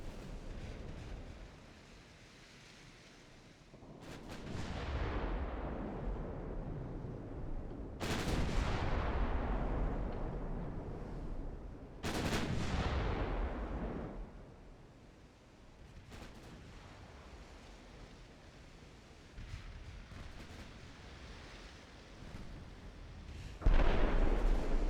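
Naval gunfire from 5-inch guns in a 1954 naval battle game, heard as repeated booming salvos every few seconds, each with a sharp onset and long rumbling decay over a steady wash of sea noise.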